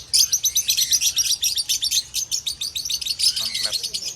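Lovebirds at a bird kiosk chirp in rapid, steady trains of bright, close tweets that run without pause from start to end, with a faint low hum of the surroundings beneath.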